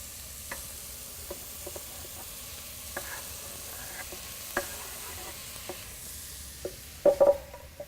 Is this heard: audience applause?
no